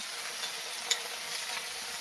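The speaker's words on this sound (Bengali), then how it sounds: "এগুলো দিয়ে সব একসাথে ভেজে নিচ্ছে এই তেলে সব ভাজা হচ্ছে" Mixed vegetables, including peas, fry together in oil for a gota chorchori, giving a bright, continuous hiss with a single small clink.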